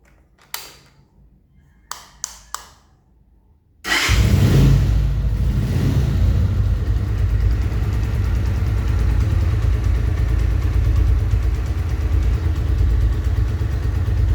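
A few light taps, then a motorcycle engine starts and idles steadily at close range, a loud continuous low rumble with no voices.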